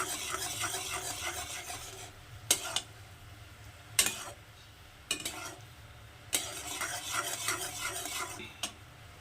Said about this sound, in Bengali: চিনি শিরাটা ফুটছে কত সুন্দর